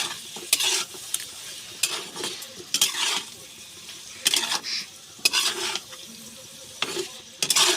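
Spices frying in a pan and stirred with a spatula: repeated bursts of scraping and clatter against the pan over a low, continuous sizzle, fairly close and loud, with no voices.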